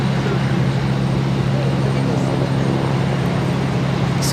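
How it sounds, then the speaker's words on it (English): A Delta Airbus A330 arriving at Boston Logan from Amsterdam gives a loud, steady jet roar with a strong low rumble that holds for the whole few seconds. "This A330 is coming in from Amsterdam"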